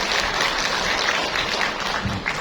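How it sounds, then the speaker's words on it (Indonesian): Audience clapping at a school parenting seminar, a dense burst of many hands applauding together, fairly loud and unbroken. "Boleh tepuk tangan lagi buat kita."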